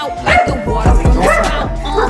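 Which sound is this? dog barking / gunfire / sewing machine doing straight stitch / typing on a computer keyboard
dog barking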